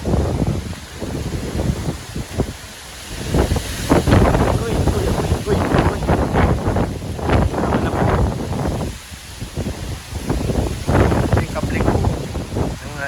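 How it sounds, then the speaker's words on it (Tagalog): Powerful gusting typhoon wind roars and buffets the microphone continuously, surging and easing in waves, while a person talks over it. "Sobrang lakas ng hangin."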